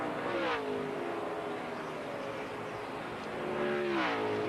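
NASCAR stock cars racing at the 2002 Pennsylvania 500 roar loudly. Engine tones sweep up and down in pitch as cars pass, over steady track noise, with no talking.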